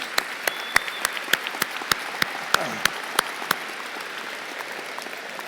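Graduating seniors at Springdale High School's 2017 ceremony applaud their parents, a steady bed of crowd clapping punctuated by loud, evenly spaced claps close by.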